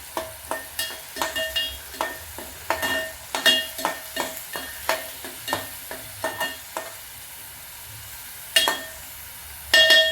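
Green chillies frying in a pan with onion and tomato for veg pulao, a steady sizzle punctuated by a regular series of sharp utensil taps and scrapes against the pan, close and fairly loud, with a few louder knocks near the end.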